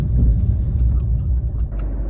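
A 2009 Fiat Panda with a 1.1 engine pulls over, giving a close, loud low engine and road rumble that gradually eases as the car slows, with small knocks and clicks and no speech.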